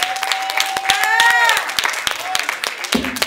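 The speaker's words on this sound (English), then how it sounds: "Clap your hands and give God praise." Church congregation clapping and praising, sharp scattered handclaps mixed with raised voices and exclamations, loud and close, with a voice calling out and speech running underneath.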